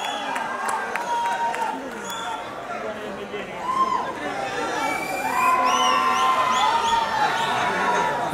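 Audience at a film's 50th-day celebration event cheers and shouts with scattered clapping, a lively crowd din with voices rising over it and speech mixed in.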